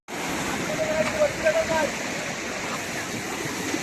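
Strong water rushes steadily at a crab hunting spot in the Konkan, a dense broadband roar close by that fills the whole stretch, with a voice speaking over it early on.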